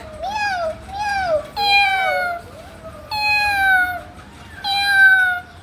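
A voice imitates a cat, giving five drawn-out meows in a row with short pauses between them, close and fairly loud, over a quiet room.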